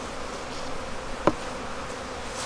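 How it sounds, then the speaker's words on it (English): Bees buzz around a beekeeper's head at a hive, a soft continuous drone with one sharp close pass standing out midway, alone without talk. "I've got bees starting to pelt my head"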